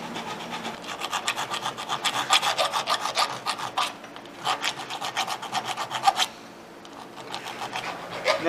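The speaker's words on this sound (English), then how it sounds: "I have a lot of experience expanding holes, so it's just a simple matter of a little bit of filing." A hand file rasps in quick back-and-forth strokes, enlarging a hole in a metal suspension strut mount on a 1976 Mazda RX-7, with close, rhythmic bursts and a brief pause near the end.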